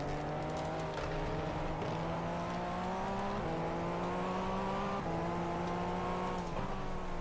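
A Peugeot production-based 3.2-litre V6 race car engine in the GTR2 racing game at Daytona, droning steadily and loudly at high revs, with pitch climbing through the gears and dipping sharply at each upshift.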